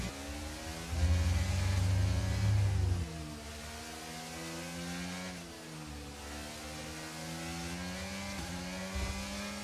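Formula 1 race car engine in the F1 23 video game, a loud revving whine that climbs through the gears, with a brief deep roar early on, then steady higher-pitched engine tone while overtaking.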